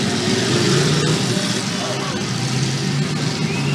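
Rough engines of demolition derby cars, including Mopars, roar and idle in a dirt arena in Tooele, Utah, one car with a broken axle, a dense continuous drone under a loud announcer's voice.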